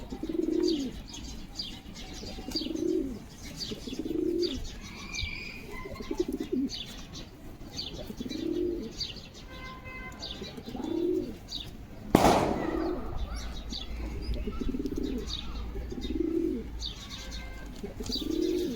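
Pigeons cooing inside a closed loft in Chikhli, Maharashtra, repeated soft throaty coos in an even rhythm with light chirps around them and one sharp bang partway through, close and steady without talk.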